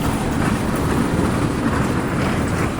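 Train passing on rails, heard as a loud, steady rumble with a continuous rattling rolling noise that holds through the whole stretch, close by and with no voices over it.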